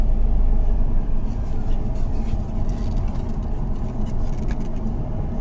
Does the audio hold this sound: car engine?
yes